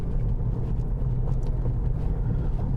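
Steady low road rumble from a 2020 Toyota Corolla ZR hatch cruising over a cement road, a continuous dense drone with faint wind hiss and no voices.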